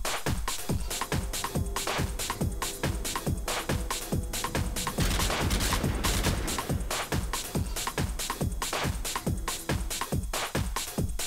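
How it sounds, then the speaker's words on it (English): Rapid bursts of M16A4 assault rifle fire from Call of Duty Modern Warfare 3 on the Wii, sharp repeated gunshots in quick three-round groupings, loud and close with no talking. "The next gold gun we have is the M16A4."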